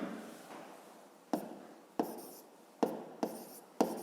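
Writing by hand with a pen on paper, as a fifth-grade maths exercise is written out. Several sharp taps of the pen land at irregular intervals between soft, scratchy strokes, close and quiet.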